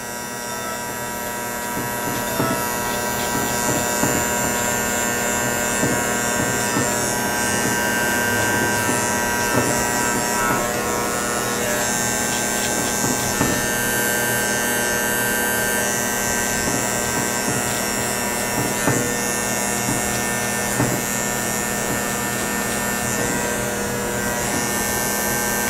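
Electric hair clippers buzz continuously and close up while fading a neck taper haircut, a steady loud hum with faint scraping strokes throughout and no talking.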